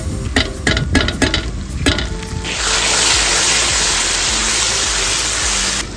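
Garlic and ginger paste frying in a pan: a few sharp stirring scrapes and clacks at first, then a loud, dense, steady sizzle filling the rest, close up with no talking.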